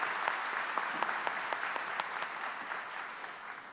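An audience at a presentation in a Lima art gallery gives steady applause, with individual claps standing out at first before it thins toward the end.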